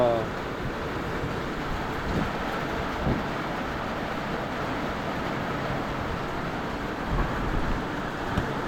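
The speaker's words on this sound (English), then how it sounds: "I just wanted you to hear the downpour that we have inside the house" Steady, dense rushing noise of heavy rain pouring down, leaking inside a house, constant and fairly loud with no voices.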